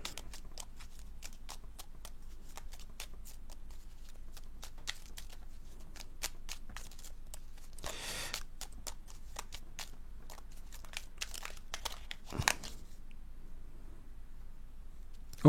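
Archangel oracle cards being shuffled and drawn, a steady run of soft, quick card riffles and flicks with a louder snap near the end, close and alone with no talking.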